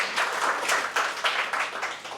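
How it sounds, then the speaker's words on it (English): Audience at a Teacher's Day celebration giving teachers a round of applause, a fairly faint, uneven patter of many hands clapping that swells and fades over a couple of seconds. "I would like to welcome all our teachers with a big round of applause"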